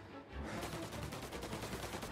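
Rapid gunfire in the Mafia video game, a dense continuous burst of shots, loud and sustained, with no talking over it.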